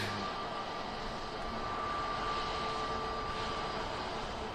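Steady broadband aircraft engine roar at Manchester Airport, a continuous loud rumble with a faint high whine running through it and no voices.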